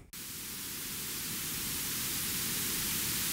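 White noise passed through a Moog Matriarch-style filter 8 synthesizer filter, a steady broadband hiss with a dip around the midrange, sounding alone and evenly after a brief start.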